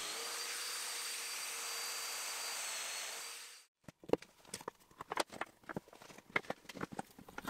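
A power tool cuts a walnut crossbar to size, giving a loud, sustained high whine for several seconds that stops abruptly. Scattered clicks and knocks of handling the wood follow.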